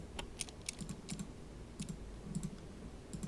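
Quiet computer keyboard typing, a steady run of light clicky keystrokes in small irregular clusters, with a few firmer key presses among them and no voices.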